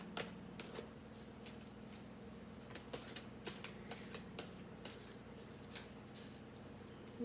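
Oracle cards shuffled by hand during a tarot reading, giving a steady run of soft riffling flicks and crisp snaps close by, with no talking.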